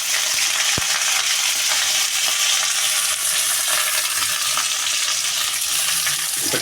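Onion, curry leaves and green chilli sautéing in a pan for mutton leg soup, a loud, dense, unbroken sizzle close up, with one sharp knock near the start.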